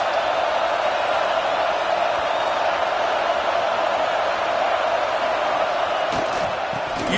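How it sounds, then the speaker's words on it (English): A football stadium crowd gives off a dense, continuous roar that holds at a steady level throughout, broad and enveloping, with no single voices standing out. "This crowd trying to make life miserable for this offense."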